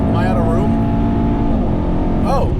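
A 2018 Mercedes-AMG E63S Wagon engine drones loud and steady from inside the cabin, its pitch rising and falling as it reaches the rev limiter and upshifts, with a person talking over it.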